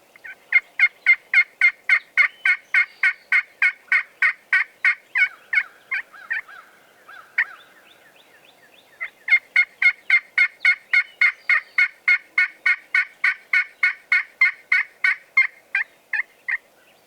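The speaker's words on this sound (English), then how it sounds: "There's a couple of birds gobbling this morning" A wild eastern turkey gobbles in a rapid, evenly spaced run of loud clucking pulses. A pause follows with a softer drawn-out call, then another long rhythmic series of gobbles, crisp against a quiet morning background.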